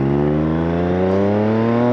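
Triumph Speed Triple motorcycle engine revving steadily through a gear shift, a loud, close, continuous multi-cylinder drone that holds even pitch with a slight bump near the end, with no talk over it.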